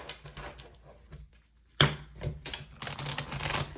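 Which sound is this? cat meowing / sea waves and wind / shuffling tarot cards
shuffling tarot cards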